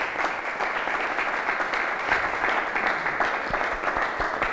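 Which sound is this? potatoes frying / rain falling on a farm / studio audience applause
studio audience applause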